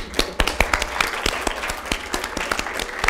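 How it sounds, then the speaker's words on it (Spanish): An audience at a humor event applauds with scattered, sharp individual claps that stand out over a lighter background patter, fairly close and lively throughout. "Aplausos."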